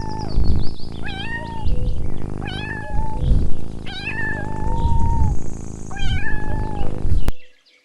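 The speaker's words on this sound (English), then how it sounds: "Kitten." A kitten meows repeatedly, several high, plaintive calls in a steady series, close and clear, cutting off abruptly at the end.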